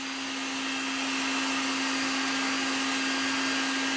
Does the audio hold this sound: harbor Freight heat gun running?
yes